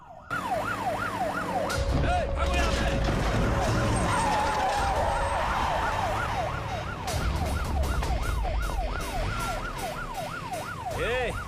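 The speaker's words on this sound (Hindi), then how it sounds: "ये तो पुलिस का सायरन है।" A wailing police siren sweeps up and down repeatedly, loud and close, over a low rumble of traffic and background commotion.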